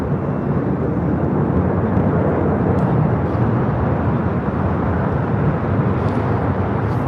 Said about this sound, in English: China Cargo Airlines Cargo King 222 taking off to Shanghai on a 777 freighter